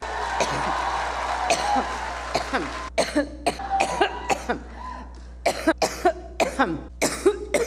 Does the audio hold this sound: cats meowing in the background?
no